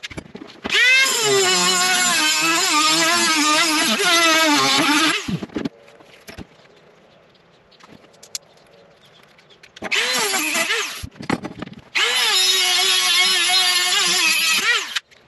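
A high-pitched Dremel rotary tool with a cutting disc whines loudly in two long bursts cutting plastic tabs in a 2012 Jeep Wrangler JK, its pitch wavering as it bites, separated by a quieter pause with brief blips.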